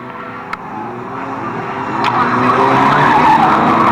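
Race cars lapping the Fleet Raceway oval, engines droning and building louder as they pass, with tyres skidding and squealing on the track, no voices over them.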